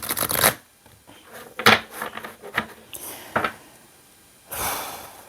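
Oracle cards are shuffled close up in several quick riffling bursts separated by pauses, with a longer rush of shuffling at the close.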